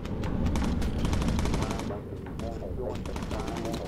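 Rapid machine gun and cannon fire rattles from a WWII bomber's turrets in the video game Bomber Crew, with dense continuous bursts under a low engine drone and a short pause before it resumes, while voices speak over it.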